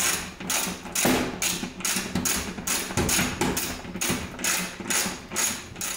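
A ratchet tightens the bolts of a Fiamma skylight from inside a converted horsebox, clicking in quick, regular strokes with brief pauses between them, close and steady, with no talking.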